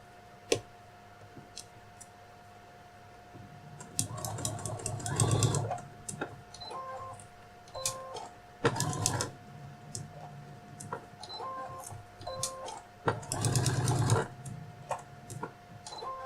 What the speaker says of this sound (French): J'essaie de faire ma couture par-dessus la couture de surpiqûre